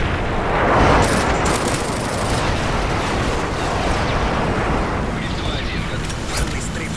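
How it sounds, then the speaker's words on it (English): Airstrike explosions in Modern Warfare 3: a continuous, loud, dense roar of blasts and rumbling detonations, with a swelling boom near the start and steady battle noise throughout. "Friendly airstrike on the way."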